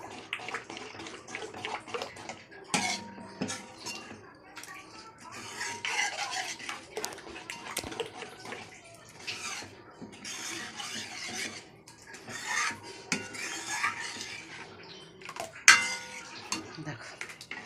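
A spoon stirs a milk and curd mixture in a bowl for sweet curd, with repeated wet swishing bursts and occasional sharp clinks against the bowl, moderately quiet and uneven.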